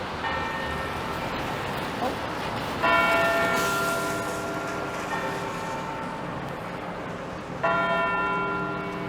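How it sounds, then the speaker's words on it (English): A church bell in Toronto's financial district tolls the half hour on a rainy afternoon, two loud ringing strikes with long sustained hums over steady street and traffic noise. "That bell signals it's 2:30."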